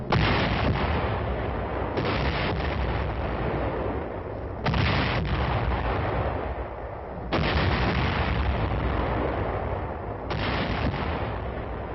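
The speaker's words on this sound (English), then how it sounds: "24th Division Artillery prepares to open fire on Hill 584, where UN forces are attempting to dislodge a stubborn enemy force" Korean War artillery of the 24th Division, 1951, pounding Hill 584: loud, continuous booming and rumbling fire rolls on in heavy waves, with fresh surges of blasts breaking in every few seconds and no voices.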